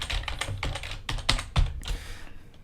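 Keystrokes on a computer keyboard while coding a top-down action adventure game, a rapid run of close, crisp clicks in irregular bursts with one heavier key thump near the middle, no voice.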